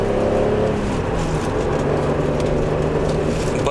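Toyota Supra JZA80 naturally aspirated inline-six, no boost, revving smoothly at a car show, a steady near engine note that holds high briefly then settles into a sustained lower drone.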